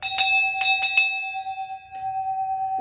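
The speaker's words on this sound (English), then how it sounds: "our final shout out with our dinner bell." A dinner bell rings close and clear, three or four quick strikes followed by a fainter one, each leaving a long sustained ringing tone that fades slowly.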